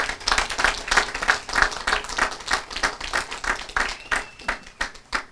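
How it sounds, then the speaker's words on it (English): An audience at a 9/11 twentieth-anniversary remembrance ceremony claps in steady, dense applause that swells and pulses throughout, with no voices over it. "a big round of applause for the East Brunswick Police Department"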